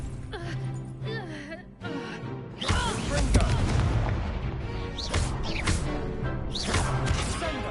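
A Confringo blasting spell explodes during a Hogwarts Legacy duel, with heavy booms and crashes over layered battle effects and game music, and character voices shouting within the fight.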